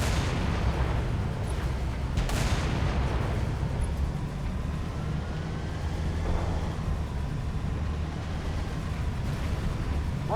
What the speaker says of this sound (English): Those fuel rod turrets, man, they'll kick the back end living out of you.